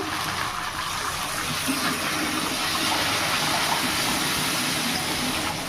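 Mutton stock pours into meat cooking with fried spices, giving a continuous gushing, splashing wash of liquid at steady loudness.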